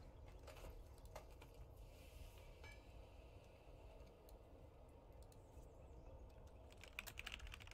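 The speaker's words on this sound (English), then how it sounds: "Manual typing it is." Someone types manually on a computer keyboard, producing faint, soft, irregular key clicks at a distance with a quiet room hiss and no talk.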